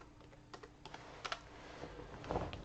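Quiet keystrokes tap on a Dell laptop keyboard running Windows 10, a short irregular run of soft clicks close by.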